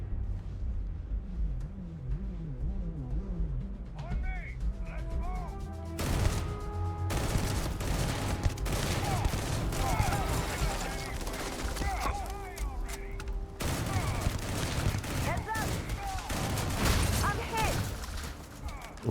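Gunfire in Starfield, with rapid bursts and sustained firing under synthetic weapon tones, alongside talking and game voice lines.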